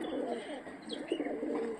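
Punjabi pigeons coo softly and steadily at close range, a low murmuring call that rolls on without a break.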